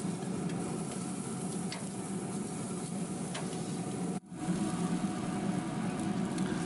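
Bison burger patties sizzle on a grill with a steady, close crackling hiss. A brief dip comes partway through, and then the frying continues.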